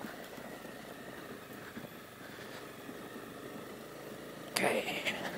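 Motorcycle ridden along the Tokawa Forest Road in Japan, giving a steady, moderately loud engine drone mixed with wind rush, with a brief louder surge near the end.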